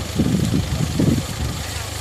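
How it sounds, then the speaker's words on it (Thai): Steady low rumble of a large engine with a big gearbox driving a homemade mini water-supply pump, running continuously at idle-like pace with someone talking over it. "ใช้เครื่องใหญ่มากครับ เครื่องเกียร์ก็ใหญ่ครับ"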